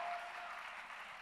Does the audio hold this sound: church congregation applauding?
yes